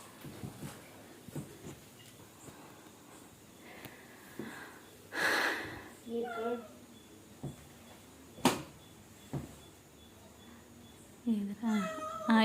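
A cat meows a few times nearby, short calls spread across quiet moments, with faint sniffing and soft voices in the background.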